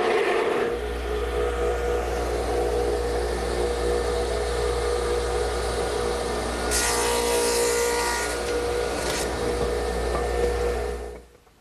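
A radial arm saw swung to 7.5 degrees cuts tenons for a cricket table, its motor running as a loud steady hum with a brighter whining cut partway through before winding down at the end.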